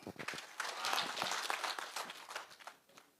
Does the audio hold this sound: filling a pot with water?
no